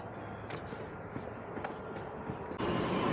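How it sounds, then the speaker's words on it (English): Train rumbling steadily at a rail station, a continuous broad roar with a few sharp metallic clicks, growing louder near the end. "Boarding our trains."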